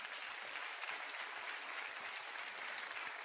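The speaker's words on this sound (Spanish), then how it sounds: "No tengo más que darle un aplauso a Domingo Faustino Sarmiento" Studio audience applause on an Argentine comedy television program, given in honor of Domingo Faustino Sarmiento; a loud, dense wash of clapping runs evenly and continuously with no voices over it.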